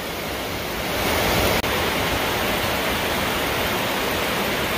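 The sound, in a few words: heavy rain pouring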